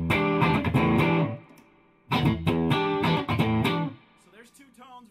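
An Ibanez Roadstar II electric guitar on its bridge humbucker with the tone knob fully up, strummed in two loud, distorted chord bursts separated by a short pause, then a few fading single notes.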